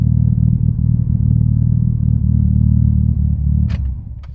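A rebuilt Mitsubishi Evo engine runs steadily through its break-in cycle, a loud, continuous low drone with faint clatter, easing slightly near the end as a brief higher rattle cuts in.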